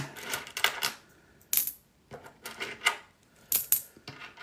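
Silver WWII war nickels drop into a bag in several separate bursts, each a bright, close metallic clink and jingle, with short pauses between handfuls.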